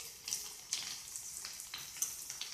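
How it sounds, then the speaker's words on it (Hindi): Leftover roti noodles sautéing in a pan, a steady soft sizzle with brief brighter stirring scrapes recurring every half second or so, close and alone. "बस इसे हम 1 मिनट तक सॉटे होने देंगे।"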